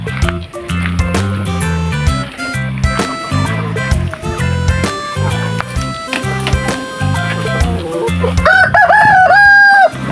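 Pet rooster crowing over a loud, busy backdrop of rhythmic music, the crow rising clearly near the end with a couple of sustained calls.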